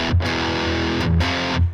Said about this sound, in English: you can hear B is a little bit more of like modern distortion